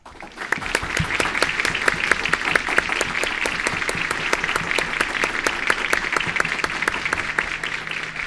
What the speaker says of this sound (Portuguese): Vamos agradecer ela com uma salva de palmas.